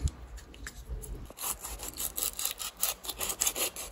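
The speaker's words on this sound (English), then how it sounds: "I started with 100 grit sandpaper" Sandpaper of 100 grit scrubs old paint off a utility knife being restored, a close rhythmic rasping of quick back-and-forth strokes that grows louder and denser after the first second.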